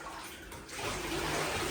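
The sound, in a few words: water rinsing golden retriever puppies in a bath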